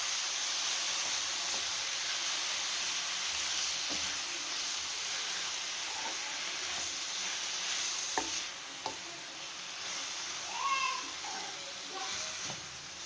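Drumstick leaves frying in oil in a home kitchen, making a broad, steady sizzling hiss with occasional faint clinks of a spoon and brief snatches of a voice nearby.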